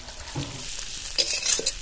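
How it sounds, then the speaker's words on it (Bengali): Potatoes fry in a pan in a home kitchen while being stirred, a soft steady sizzle broken by a few scraping stirs, close by and without talk. "আলুগুলো খুব সুন্দর করে ভেজে নিয়েছি"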